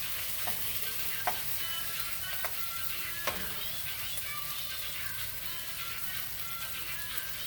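Salt fish frying in oil is stirred and turned, a steady close sizzle with occasional sharp clicks of the utensil against the pan, no one speaking.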